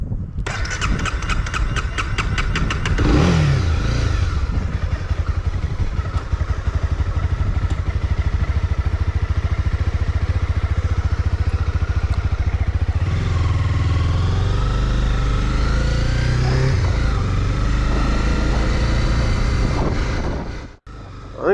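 A motorcycle engine runs steadily and close for the whole stretch, starting with a rough burst and then holding a continuous mid-pitched drone that shifts with speed, apparently while being ridden, before cutting off abruptly at the end.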